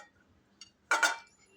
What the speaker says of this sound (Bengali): এই বাটির মধ্যে কেটে রাখা ঢেঁড়সগুলো ঢেলে নিলাম।